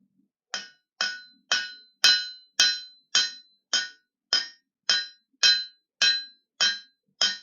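A hammer strikes steel on an anvil while lightly beveling a knife blade, twelve crisp ringing blows at a steady, unhurried pace, close and clear with silence between them.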